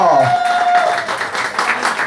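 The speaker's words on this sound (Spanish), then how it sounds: "Así que sea fuerte el aplauso para la concursante número 1." Audience applause and clapping for a female contestant at a drag-style talent show, a fairly loud crowd with a sustained voice or tone over the start and continuous hand-clapping throughout.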